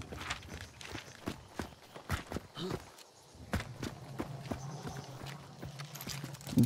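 Horse hooves clip-clop in the video game Hunt: Showdown, a run of sharp, irregular footfalls at moderate distance with a low hum beneath and no talk over them.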